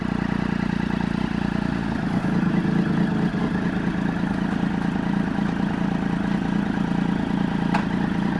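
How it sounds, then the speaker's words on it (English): Triumph Daytona 675 motorcycle engine idling low after a valve job: a steady, close, loud rumble that holds unchanged throughout, with no talk over it. "She idles way low now."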